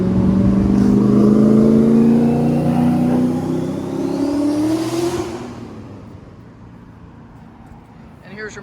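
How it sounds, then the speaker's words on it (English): Modern street traffic with a car accelerating and revving close by, its engine rising loud in the first seconds then fading as it passes, leaving quieter road noise behind. "And here's your modern street view with all its traffic."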